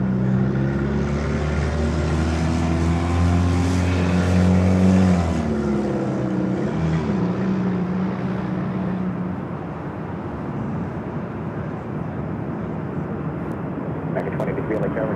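An Alaska Airlines jet at LAX airport, a loud roaring engine drone with a falling pitch sweep as it passes, fading into a broad rumble, with voices talking over it.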